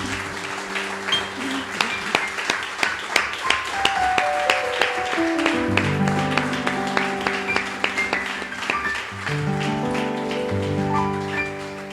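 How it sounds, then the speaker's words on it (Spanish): A church congregation claps along, sharp rhythmic handclaps ringing out loudly and steadily for the whole stretch over sustained organ or keyboard chords. "Dele un aplauso al Señor, mi hermano,"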